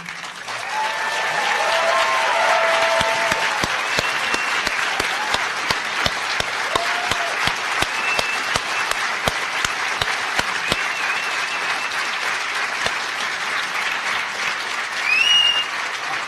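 A hacker conference audience breaks into long, loud applause for Daniel Ellsberg after his keynote speech, a continuous roar of hands with sharp individual claps standing out and a few whoops rising near the end.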